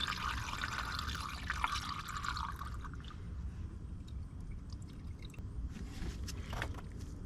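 Valvoline 50-50 coolant glugs and trickles as it is poured into a car, a faint continuous splashing stream that fades, followed by scattered small drips and ticks.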